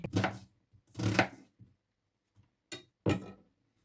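Onion being chopped with a knife, four distinct bursts of cutting strokes separated by short pauses, close and fairly crisp, with no talking.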